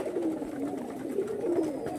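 Original Kalshira pigeons cooing, a low throaty warble repeating in soft rolling phrases close by, steady and alone without speech.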